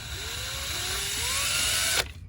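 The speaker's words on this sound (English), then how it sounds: "And then I'm going to drill." A power drill drives a screw into wood, whirring steadily, its motor pitch rising slightly as it bites in, then cuts off abruptly near the end.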